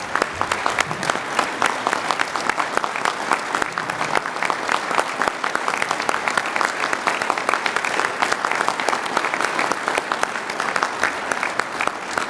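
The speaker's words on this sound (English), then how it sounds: "Let's give a round of applause to Johnny Mann from Garvin County." Conference audience applauds steadily in a large general-session hall, a dense wash of clapping hands sustained throughout at even loudness with no talk over it.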